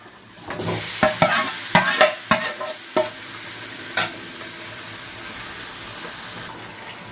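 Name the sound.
marinated chicken frying and stirred with potatoes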